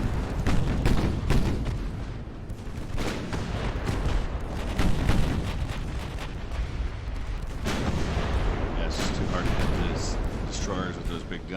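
Small naval guns firing in the Ultimate Admiral: Dreadnoughts video game, repeated booming volleys in an uneven rhythm, loud and close, with someone talking over parts of the barrage.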